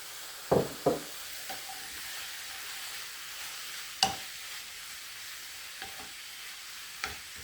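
A spoon stirs a leek mixture for quiche in a pan over a faint sizzle, making several sharp scraping knocks against the metal, two close together near the start and then a few spaced ones.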